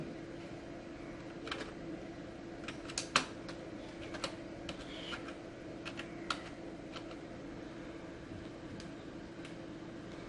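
Keys clicking on a computer keyboard while a user name is typed during Windows 10 setup on a PC, a steady run of light, irregular taps over a constant low background hum, with no talking.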